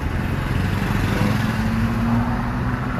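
A Mazda engine started after a battery replacement: a steady, loud, low idle hum running the whole time with no voices.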